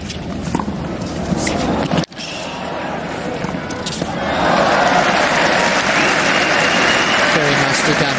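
Crowd applause at a men's tennis match at Indian Wells rises and swells into a sustained broad clatter after a short stretch of quieter court sound. A commentator's voice may also be present.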